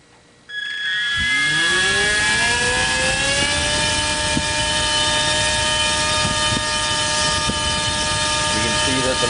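RC helicopter tail motor driven by the stock 3-in-1 ESC, spinning up with a rising whine that settles into a loud, steady high-pitched electric motor drone held close to the microphone.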